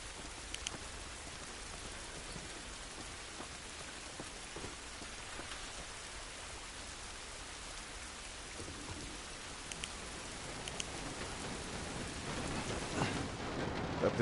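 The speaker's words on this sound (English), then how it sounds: "This rain ain't gonna do us any good." Rain in the video game The Last of Us Remastered, a steady dense hiss of rain on surfaces with scattered drop patter that builds slightly near the end.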